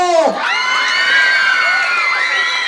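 A lively crowd at a national costume pageant cheers and whoops loudly, high shrieking voices rising and falling in overlapping yells close by, with little distinct clapping.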